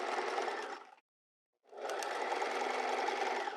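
Sewing machine stitching fabric for a square neck top, running steadily, pausing for about half a second, then resuming as it backstitches to lock the seam; close and loud, no voices.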